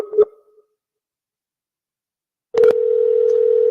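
A Skype call's ringing tone sounds as a steady electronic tone that cuts in after a brief click and a long silence, then holds loud and even to the end.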